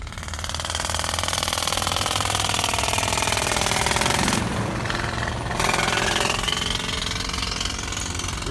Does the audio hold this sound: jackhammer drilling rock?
yes